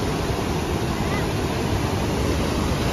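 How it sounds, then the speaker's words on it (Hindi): The huge waterfall at Iguazu, seen from the Argentine side, gives a dense, constant roar of rushing water with wind buffeting the microphone. "देखिए ये है जी वाटरफॉल"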